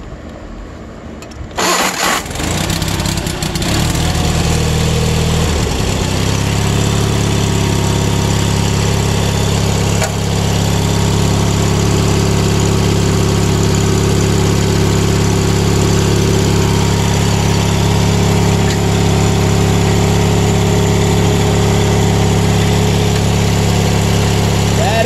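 A Wheel Horse lawn tractor engine, jump-started from a jumper battery, cranks briefly, catches and settles into a loud, steady idle that runs continuously to the end.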